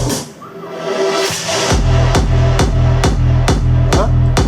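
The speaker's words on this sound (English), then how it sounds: "Means it's a kick, a big kick with the bass on the kick." Big EDM kick drum with heavy bass sitting right on each hit, entering after a sweeping intro and pounding in a steady, loud four-on-the-floor pulse with no bass between beats.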